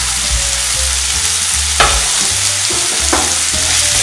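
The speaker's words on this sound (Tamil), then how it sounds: "பாலக்கீரையை போட்டுட்டு இன்னும் கொஞ்ச நேரம் வதக்குங்க." Spinach sautés in a hot pan for egg momos: a loud, constant close sizzle with occasional scraping stirs and a couple of sharper utensil knocks.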